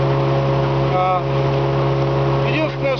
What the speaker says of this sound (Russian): Моторчик старенький, достаточно сказать, что такие моторы уже 20 лет как в Финляндии не выпускаются.